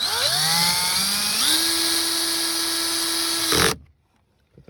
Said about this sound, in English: I've got the drill set on 5 for the auto, whatever you want to call that, auto stop